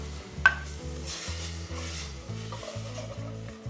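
Wine poured into a hot de Buyer Prima Matera copper pan while the bottom is scraped, a soft bubbling sizzle under a low steady hum with a single sharp utensil click near the start.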